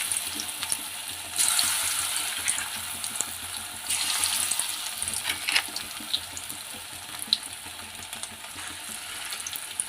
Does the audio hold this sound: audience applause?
no